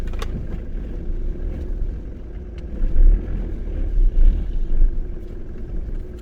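A Ford Transit van engine idles steadily right after starting, a close, low rumbling drone with a few louder surges and some wind buffeting, no talk.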